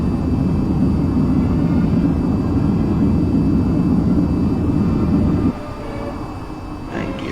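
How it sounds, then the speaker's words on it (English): Jet aircraft in a flight simulator game takes off with afterburner lit: a loud, steady roar holds for several seconds, then drops sharply in level, leaving a quieter engine rumble. No one speaks. "And I always set flaps 1 for departures, afterburner in, and let go."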